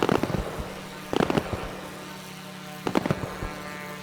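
Aircraft cannons fire in a video game, four 20mm guns plus a 30mm nose cannon, in three short rapid bursts of loud rattling shots over a steady engine hum.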